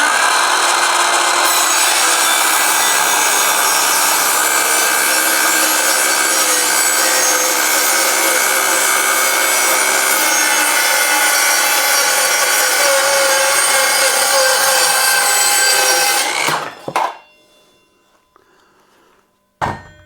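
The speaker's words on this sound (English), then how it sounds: "Particle board, I'm going to try using the notch on the 0 here to cut along this straight line freehand." Evolution R165CCS-Li 18V cordless circular saw ripping freehand along a straight line through particle board, a loud, steady whining cut lasting about sixteen seconds, then the blade winding down and a brief final burst near the end.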